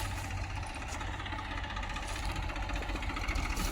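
A steady, low tractor diesel engine rumble with a rhythmic knocking throb, running continuously at close range during a turmeric harvest, with no talking.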